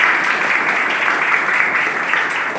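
Dense, steady applause from an audience at a grand recognition program in Mumbai, filling the whole stretch at an even, loud level with no voices over it.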